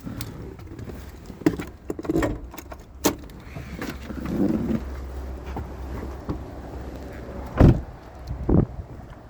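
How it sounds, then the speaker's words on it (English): Popping the hood of a 2023 Subaru Forester: a jumble of close clicks, latch clunks and rustling, with a few sharp knocks and a firm thud near the end, over a low steady outdoor rumble. "I'm gonna pop the hood real quick."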